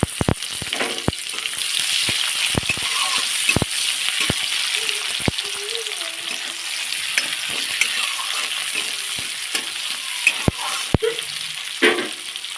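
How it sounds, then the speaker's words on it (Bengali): Chopped onion fries in oil in a kadai, a continuous crackling sizzle up close, punctuated by frequent sharp clicks and taps of a utensil stirring against the pan. "তেলের মধ্যে কুচনো পেঁয়াজটা দিয়ে ভালো করে ভেজে নেব"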